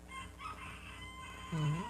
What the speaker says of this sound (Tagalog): May nagtarampang manok.